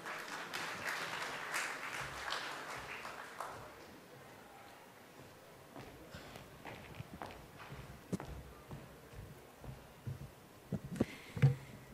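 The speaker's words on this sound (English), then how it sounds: "could we please welcome her with a huge round of applause" Audience at a summit applauding: a burst of clapping for the first few seconds that thins out, followed by scattered claps and light footsteps.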